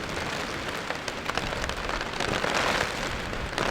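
Steady rain pours on a campsite during a windy lightning storm in grizzly country, a dense continuous hiss of drops drumming on a surface, fairly close and unbroken with small swells in intensity.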